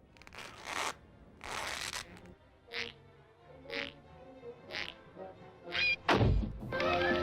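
Footstep sound effect made by flapping an empty wallet, a series of soft leathery thunks in an uneven walking rhythm, close and moderately loud with no talking.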